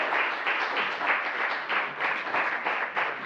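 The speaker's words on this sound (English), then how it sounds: "Can we give him a round of applause?" Sustained audience applause at a town hall symposium, a dense continuous wash of many hands clapping steadily throughout at moderate loudness with no talking.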